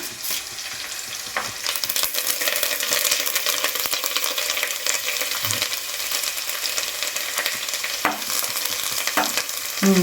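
Curry leaves crackling and frying in hot oil, a loud, dense, continuous sizzle close up with occasional stirring clinks, no voices.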